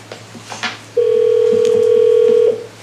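Telephone tones sound while calling into a conference line: soft background handling and faint sounds, then a loud, steady single-pitch tone holding for about a second and a half before stopping.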